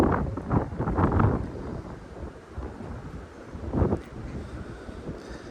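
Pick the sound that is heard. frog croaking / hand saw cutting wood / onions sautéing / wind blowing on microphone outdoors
wind blowing on microphone outdoors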